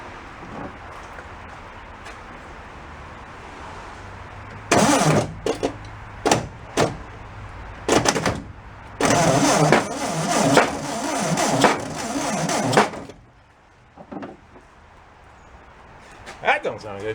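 Old barn-find Volkswagen engine cranking in bursts as it tries to start, with two main stretches of churning starter noise and a few short bursts between them, heard close with people talking around it.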